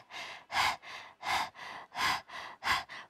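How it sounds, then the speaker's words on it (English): Rhythmic yoga breathing in and out through the mouth, a steady panting pattern of about eight breaths, alternating stronger and softer puffs, close and alone with no talking. "start breathing in and out of your mouth"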